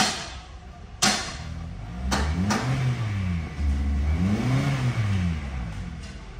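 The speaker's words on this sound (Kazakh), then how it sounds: "Кичине трайт этип атат. Az газ бергенде." A 2019 Kia Optima engine revving under throttle with a sharp burst, then rising and falling rev swells, with an uneven note suggesting worn ignition coils.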